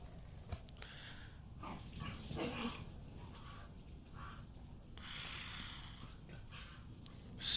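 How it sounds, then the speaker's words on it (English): Dogs playing in a garden, with soft whimpers, yips and occasional barks heard faintly from a distance, and a sudden louder noise at the very end. "my dogs are over there playing"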